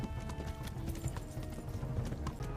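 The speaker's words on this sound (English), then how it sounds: "Our poor horse." Galloping horse hooves in Kingdom Come Deliverance, a steady fast clip-clop rhythm running continuously and loudly over rumbling low ambience during a chase, with a possible faint whinny.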